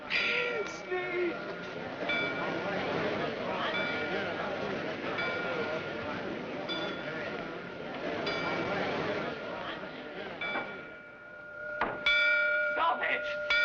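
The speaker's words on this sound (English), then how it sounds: "Sneed, stop those bells" Bells ring and clang over a dense, busy background of rumbling noise, with a sharper cluster of metallic strikes near the end.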